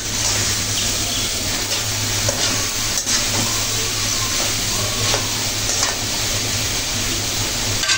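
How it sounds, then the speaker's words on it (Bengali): Kochur loti (taro stolons) cook with spices in a pan, a constant dense sizzle layered with scraping stirring strokes and an underlying low hum, without speech. "লতিগুলো মশলার সাথে ভালো করে নেড়ে চেড়ে দিতে হবে যেন লতির সাথে মশলাগুলো ভালো করে লেগে থাকে"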